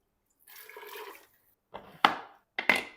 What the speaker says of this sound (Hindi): तो मैं इसमें 1 मग पानी और शामिल कर दूंगा।